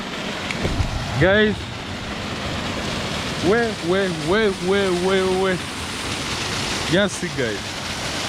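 Heavy rain falls during a village flood, a steady broadband hiss of downpour running throughout while people talk and call out over it.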